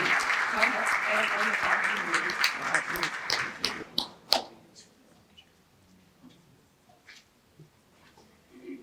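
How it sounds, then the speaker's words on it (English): Applause for the mayor at a University of Louisville Juneteenth gathering, loud crowd clapping for about four seconds that quickly dies away into scattered claps and quiet room noise. "Can we give the mayor another round of applause, please?"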